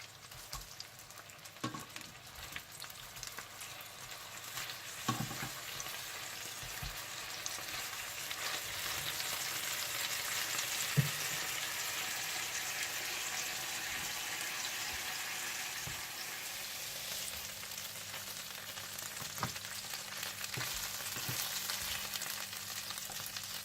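Beef burger patties fry steadily in a hot pan, a continuous close sizzle and crackle with scattered pops and a few scrapes or clinks, running alone for over twenty seconds.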